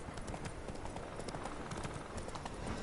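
Roach, Geralt's horse in The Witcher 3, gallops along with quick, steady clip-clopping hoofbeats, loud and close, in a continuous driving rhythm throughout.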